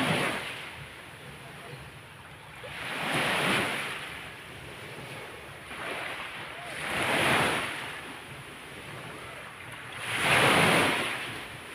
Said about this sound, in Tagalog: Alinaw ang dagat pero kusog ang ahon sa may daplin.